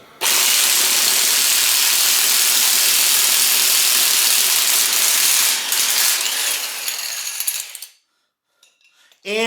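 An impact wrench working a seized seatpost out of a bicycle frame, a loud, steady rattling buzz that runs close for about eight seconds, then cuts off into silence before a brief restart.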